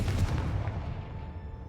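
A Confringo blasting spell goes off in the Hogwarts Legacy video game: a sharp, loud burst of an explosion followed by a low rumbling decay over under two seconds.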